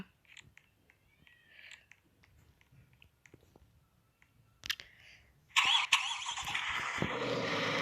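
The engine of the fanciest luxury car in a video game starts and then roars steadily and loudly, preceded by a stretch of quiet faint clicks and a brief chirpy cat-like sound.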